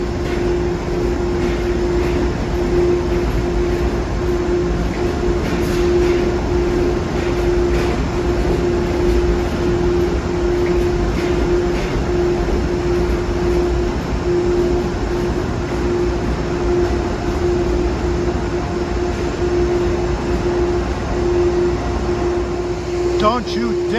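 Engine 223 idles on Track 29 at Grand Central Terminal during the evening rush, ready to leave with train 1848 for Danbury: a steady, loud diesel drone with a constant hum and station echo, running unbroken throughout.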